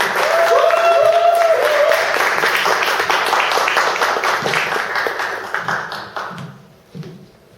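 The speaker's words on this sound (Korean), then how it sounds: "그러면 우리 큰 박수로" Loud, sustained applause from an audience welcoming a speaker at a talk, dense clapping that gradually thins out and fades toward the end.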